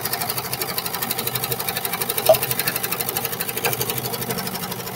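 A serger runs fast and continuously while serging the edge of a pocket on a pair of short pants, giving a close, rapid, evenly pulsing mechanical chatter throughout.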